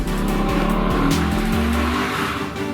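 A 2022 Lexus LC 500 Convertible sliding under power, its V8 roaring loud and close while the tires squeal and skid throughout, the engine note dipping in stepped shifts before settling.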